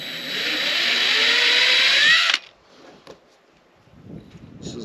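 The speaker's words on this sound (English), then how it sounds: "I'm gonna go ahead and start drilling" A power drill with a hole saw whirs steadily for a couple of seconds cutting into a plastic water tank, its pitch climbing as it bites, then cuts off abruptly, followed by faint handling clatter and rustling.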